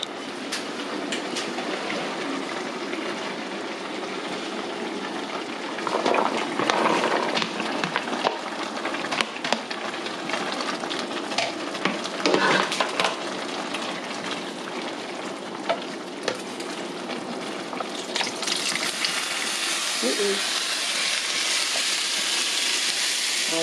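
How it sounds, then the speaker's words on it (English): Turnip greens simmering in vegetable broth in a pot on a stovetop, a steady hiss and sizzle with soft bubbling pops that grows slightly louder and brighter toward the end. "Starting to bubble a little bit, boil over."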